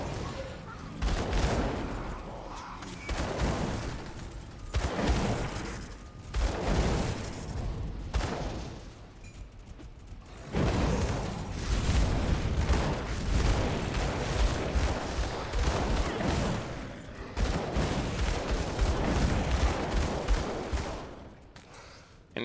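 Flashbang blasts and dual-pistol fire in the video game Grim Dawn, dense repeated bursts and booms in waves with brief dips, continuous combat noise throughout with some talking mixed in.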